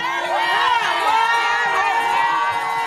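Crowd of fans at a live TODAY show broadcast in New Orleans, a dense wash of excited cheering, whoops and children's shouts, steady and loud throughout, with voices mixed in.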